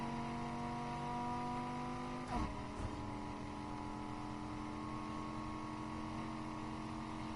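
A car engine in a PS4 racing game holds a steady high drone at sustained revs, with a brief shift or bump partway through before settling back into the same even whine; no talking.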